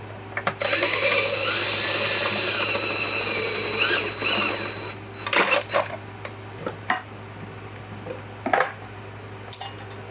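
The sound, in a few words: drill drilling apart retractable extension cord reel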